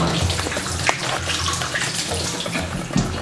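Hands are washed under a steadily running kitchen tap, a continuous loud rush of water with light splashing and a few soft knocks against the sink.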